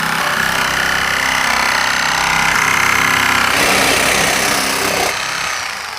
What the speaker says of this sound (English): I'm gonna get off this so I don't fall in the car when I cut through this whole thing